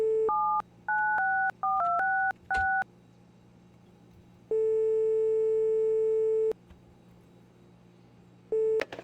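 A telephone dials in My Winter Car: quick sequences of touch-tone beeps, a long steady tone lasting about two seconds, then another beep, all clean and close with no talking.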